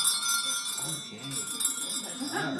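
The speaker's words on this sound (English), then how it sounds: "This is a real sleigh bell, and it's 150 years old." An antique sleigh bell, about 150 years old, is shaken and jingles continuously with a bright metallic shimmer, while faint voices murmur beneath it.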